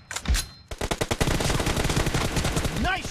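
M416 assault rifle firing in PUBG Mobile, a few opening shots then a long, loud rapid automatic burst of closely spaced cracks, with a brief game chime near the end.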